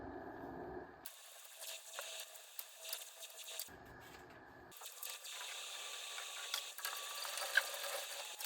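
Ratchet wrench clicking while loosening 12 mm bolts on a 2024 Toyota Tacoma, rapid pawl ticks in repeated runs with short gaps between them, close but faint.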